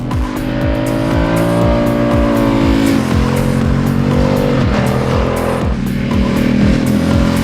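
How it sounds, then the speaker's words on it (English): A nearly 1300cc motorcycle engine roars loudly and continuously at full throttle, pitch climbing in repeated rising sweeps as it accelerates hard and shifts up through gears. "dropping the clutch on an almost 1300cc engine with the throttle wide open"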